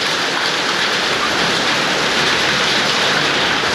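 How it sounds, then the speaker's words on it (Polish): Hail pounds down on a vehicle during a storm in South Africa, with large ice chunks hitting alongside flooding water. A loud, dense, constant roar with no pauses and no voices. "Tutaj gradem jak sypnie to naprawdę. Ale hałas."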